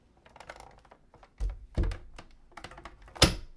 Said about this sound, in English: run it through just until you hear